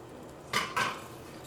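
A metal lid goes onto a pot of boiling chilli and vinegar for homemade chilli paste, making two quick clinks close together, close but fairly quiet over a soft background hiss.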